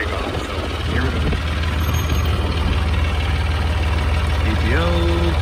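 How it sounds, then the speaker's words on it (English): A tractor runs with its PTO driving a chicken litter spreader, a loud continuous engine rumble, with a voice heard briefly over it. "we're gonna turn the PTO on first, grab the engine up, and then we're gonna take off"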